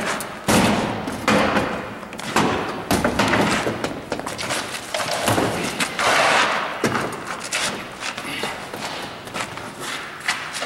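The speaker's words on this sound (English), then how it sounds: "I'm going to give it one shot with the adze." An adze strikes and pries at an inward swinging metal door secured with drop bars, producing heavy repeated thuds and metallic bangs at close range, loud and irregular, with a forcible-entry crew working around it.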